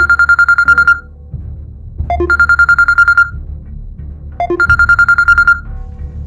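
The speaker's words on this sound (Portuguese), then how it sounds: "quando de repente o telefone tocou" A telephone rings in three repeated bursts, each a loud electronic trill lasting about a second with short gaps between, sounding close and alone.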